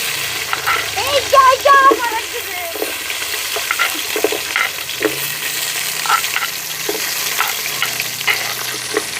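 Small onions frying in ghee for biryani, a continuous sizzle with stirring scrapes, while a voice speaks briefly near the start.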